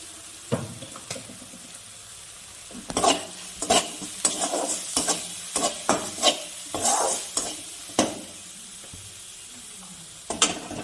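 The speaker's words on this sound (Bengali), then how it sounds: "এবার আমি মশলাটাকে একটু ভালো করে কষিয়ে নেব।" A spiced masala for a vegetarian potato and pointed gourd curry is stir-fried in a pan, with a spoon scraping in repeated close strokes over a soft background sizzle.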